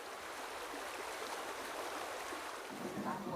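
Steady, gentle rush of a local river flowing, where stripped bark for traditional paper-making is washed, an even broadband wash that continues throughout at a low, constant level.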